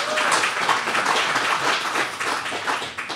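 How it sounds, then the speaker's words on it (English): An audience applauding, a dense steady patter of many hands clapping at moderate distance for a few seconds, with no voices standing out. "So if we could give him a round of applause."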